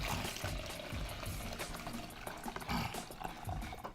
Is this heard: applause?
no